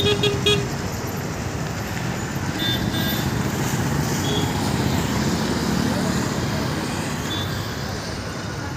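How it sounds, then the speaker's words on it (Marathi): Steady, loud engine and road rumble from an auto rickshaw ride through city traffic in Kharadi, Pune, with occasional horn toots in the mix throughout. "आता आम्ही रिक्षाने जाणार"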